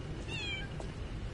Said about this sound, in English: That's the cat that was with the old lady.